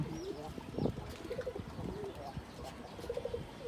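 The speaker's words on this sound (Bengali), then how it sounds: "কবুতরগুলোর অবস্থা মোটামুটি ভালো আছে" Pigeons cooing nearby in soft, repeated throaty calls, with a few faint chirps from other birds in the background.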